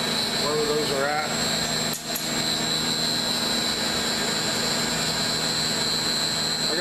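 A Motion-master CNC router makes a roughing pass with a loud, continuous machining whine and hiss. Constant high tones run through it, with a brief dip partway, and a voice is faintly audible underneath.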